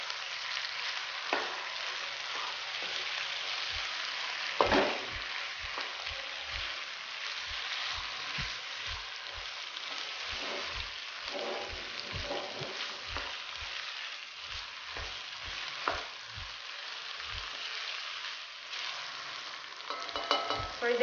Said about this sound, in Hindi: और इसे उस वक्त तक भूनेंगे जब तक टमाटर गल नहीं जाते।